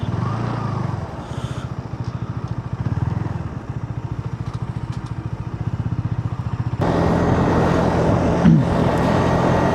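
A motorcycle rides at night in Korea, its engine a steady close drone throughout with a louder surge of road and wind noise near the end.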